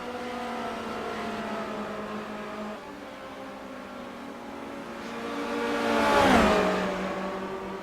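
A race car engine drones steadily along Silverstone's Wellington straight in the iRacing simulator, its tone holding and then swelling louder as a car sweeps past with a Doppler drop, with no voices.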